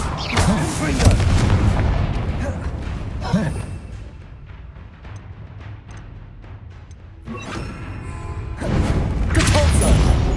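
Confringo blasting spells fired in the Hogwarts Legacy game set off loud booming explosions, a burst at the start and more near the end, with a quieter stretch of rumbling debris between and a voice calling out spells.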